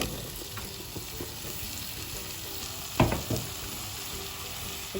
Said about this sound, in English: I'm just going to turn the heat up on a high now and add the apples to this